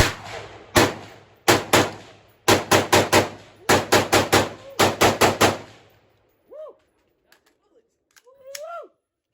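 Rapid bursts of gunfire from a rifle with a 20-round magazine, loud and close, firing in quick clustered volleys for about six seconds before falling silent, followed by brief voices.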